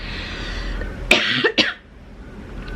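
Two or three quick, harsh coughs close by, with quiet background before and after.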